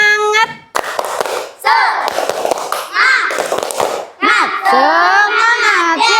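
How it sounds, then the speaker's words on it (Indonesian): Young pupils in an Indonesian classroom doing a rhythmic spirit clap, loud children's chanting voices broken by bursts of patterned hand claps and thumps, close and energetic. "Tepuk semangat dulu."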